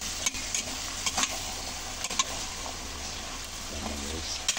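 Sayote with ground pork sautéing in a pan: a low, continuous sizzle broken by repeated sharp clicks and scrapes of a spatula stirring, close and moderately loud, with brief faint murmurs in the background.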